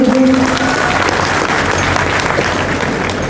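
Audience at a mushaira poetry recital in Bhatkal clapping in encouragement, a thick continuous wash of applause from a large crowd, loud and steady throughout with a brief tonal whine at the very start.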